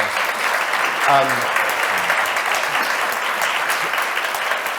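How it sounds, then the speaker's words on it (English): An audience gives a panel a big round of applause at a sustainability breakfast briefing, a broad continuous wash of clapping at steady volume, with a brief voice calling out over it partway through. "can you give a massive round of applause to our panel?"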